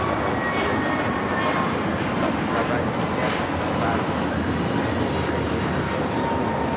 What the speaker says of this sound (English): This takeoff is American Airlines 753 taking off to Atlanta, Georgia on the A321neo